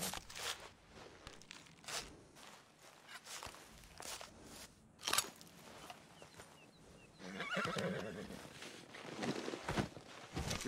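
A horse in the Red Dead Redemption 2 video game shuffles and steps on the ground with scattered footfalls and rustling, and a whinny rises near the end.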